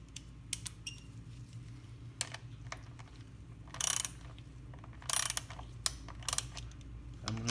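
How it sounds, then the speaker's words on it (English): A ratchet tightens the lock nuts on the chain tensioners of a Porsche 911 964. Its bursts of quick metallic clicks come close and alone, separated by short pauses. "I'm going to have to use my ratchet."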